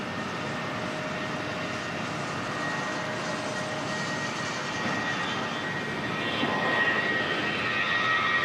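An airliner takes off from Auckland Airport bound for Queenstown, its engines a steady, broad distant roar that builds gradually and swells slightly louder toward the end, with no other sounds standing out.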